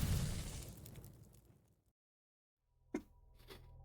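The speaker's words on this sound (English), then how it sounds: "Hear the explosion." An explosion in the video game Outer Wilds: a broad roar fades into a stretch of near silence, then a sharp, loud burst hits and leaves a lingering rumbling tail.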